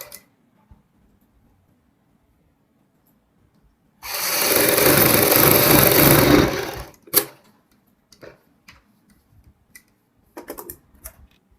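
A sewing machine stitches buckram onto neckline fabric in a single loud continuous run of about three seconds after a quiet pause, followed by a few brief clicks and handling taps.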